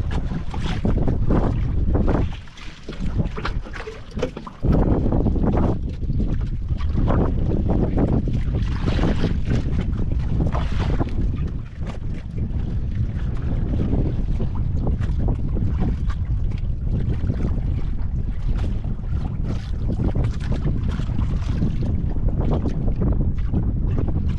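Strong wind roars and buffets the microphone on a fishing boat out at sea, a loud continuous rush that briefly dips before settling back to a steady, heavy blow.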